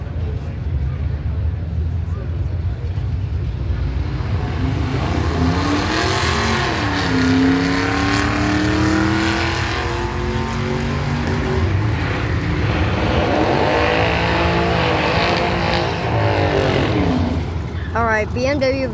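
Two Camaros launch side by side in a drag race at a car show, engines roaring and rising in pitch through gear changes, heard from a moderate distance amid crowd noise and talk.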